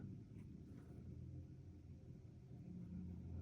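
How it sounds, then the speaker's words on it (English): Cars pass on a street behind the recording spot as a steady, faint low rumble of traffic with no talking over it. "I don't know if you hear these cars behind me"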